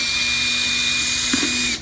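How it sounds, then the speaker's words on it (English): A power drill whirs steadily at high pitch for under two seconds, briefly catching as it bites into a plastic gallon-jug lid, then winds down. "First, you're gonna drill 4 holes on the lid of the empty gallon."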